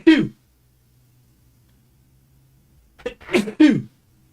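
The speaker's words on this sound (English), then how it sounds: "Why am I sneezing so much?" A sharp, close sneeze rings out, then after a quiet pause two more sneezes follow in quick succession.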